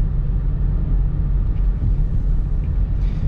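A 2017 Dodge Charger RT on a night drive gives a steady low engine and road rumble from inside the cabin, constant and loud with no talk.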